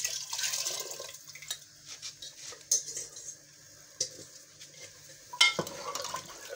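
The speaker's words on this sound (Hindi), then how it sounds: "इसको अच्छी तरह से घुमा के ये भी इसके अंदर शामिल हो जाएगा।" Water is stirred into kadhi in a cooking pot, with soft sloshing and sharp clinks of a spoon against the metal pot at irregular intervals, fairly quiet and close.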